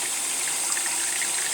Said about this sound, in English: it's filling up from the bottom, and there's water spraying out of the hose right there